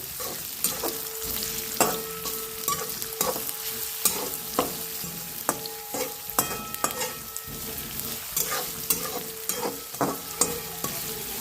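Onions frying in a pan until browned for dal khichdi, a constant close sizzle with frequent rhythmic spatula scrapes and knocks against the metal.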